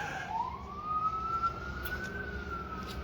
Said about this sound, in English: Excuse the police car that's outside.